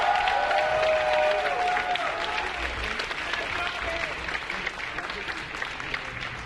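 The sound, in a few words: crowd applauding and cheering the wrestlers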